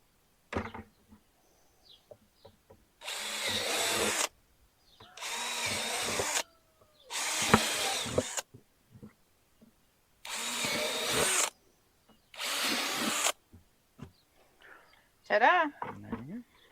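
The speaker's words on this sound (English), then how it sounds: "he's using a 1/4-inch drill bit." A power drill with a 1/4-inch bit bores holes in a plastic bucket in five separate bursts of about a second each, with short pauses, light clatter, and a brief voice near the end.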